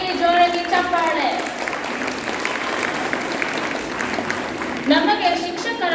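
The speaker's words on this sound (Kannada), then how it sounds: "ಅವರಿಗೆ ಜೋರಾಗಿ ಚಪ್ಪಾಳೆ." An audience at a school annual day claps loudly after a class 1 children's song, with dense, sustained applause filling the hall while a voice speaks over its start and end.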